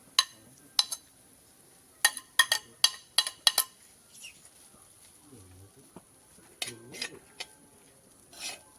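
Masala puttu mixture being stirred and mixed in a bowl gives a series of crisp clinks and scrapes of a utensil in uneven bursts, fairly close, with quiet gaps and a brief murmur of voice.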